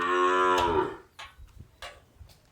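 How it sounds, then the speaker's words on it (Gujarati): A cow being milked moos once, long and loud with a falling tone, followed by a few faint scattered knocks and rustles. "ગાયને દોહે"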